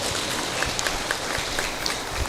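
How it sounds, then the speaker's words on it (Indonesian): Fairly faint applause at a government ceremony for appointing teachers in Central Java, a soft even patter of clapping from a room. "Oke, terima kasih, tepuk tangan dulu"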